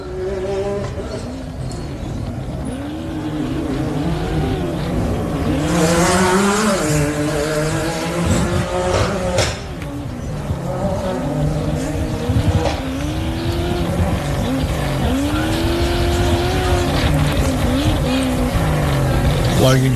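Off-road race trucks and side-by-sides at a 4x4 adventure park during a desert race, engines whining and buzzing with rising and falling revs as they pass, under steady commentary.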